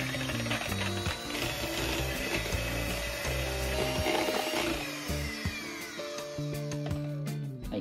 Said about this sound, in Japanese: ハンドミキサーとかを使ってメレンゲを作っていくんですけども